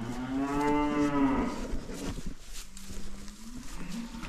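A cow and her calf moo inside a barn as the cattle are let out onto grass, one long, loud, close moo dominating the start, followed by fainter, lower calls and shuffling.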